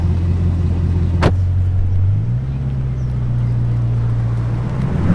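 A Bugatti Divo supercar engine drones loud and steady from inside the car, its low note stepping up slightly partway through after a brief sharp click.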